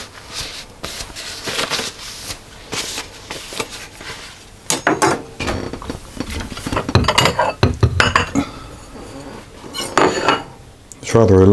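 A large slice of devil's food cake is lifted onto a plate with clattering cutlery and dish clinks, irregular knocks and scrapes close by, busiest toward the middle and ending with a ringing clink.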